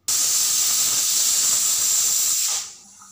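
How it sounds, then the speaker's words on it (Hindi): A pressure cooker on a gas stove, cooking bottle gourd, lets out one long, loud, steady steam whistle that hisses continuously for over two seconds, then cuts off to a faint background. "देखिए 1 सीटी आ चुकी है"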